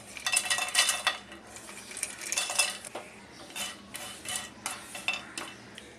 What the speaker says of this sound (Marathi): मीडियम आचेवरती आपण हे मसाले सगळे भाजायचे आहेत